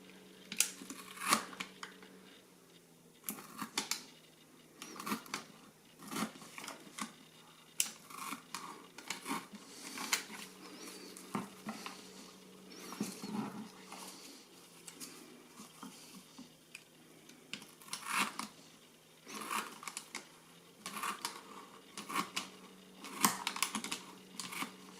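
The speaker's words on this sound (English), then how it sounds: "then we can start cutting next to the band, and certainly we should be careful with" Sharp clicks and snips from a brand new blade cutting next to a hose band while an oil catch can (Provent 200) is fitted to a Peugeot/Citroen 1.6 HDi engine, repeated in irregular bursts over a steady low hum, close by with no talking.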